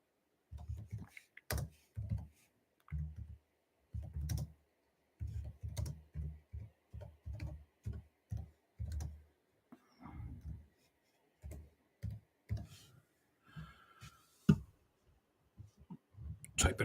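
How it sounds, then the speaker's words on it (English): Computer keyboard typing in a run of quick clattering keystrokes with short pauses, fairly close and clear, with a few small clicks toward the end. "Typing this."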